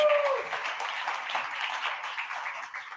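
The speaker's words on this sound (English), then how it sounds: "give these guys a round of applause" Audience applause at a speaking summit, a steady wash of many hands clapping at moderate level for about three seconds with a faint voice at the very start.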